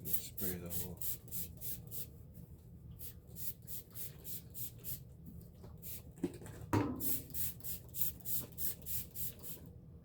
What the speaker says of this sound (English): got my neem oil here. Just gonna spray the whole.